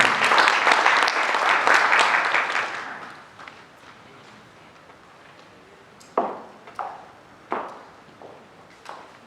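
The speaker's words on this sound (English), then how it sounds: "A round of applause, ladies and gentlemen." Dense applause from an audience at the 2021 Kenya E-Commerce Awards ceremony fills the first few seconds loudly, then dies away. A few separate knocks or footsteps follow in a quieter room.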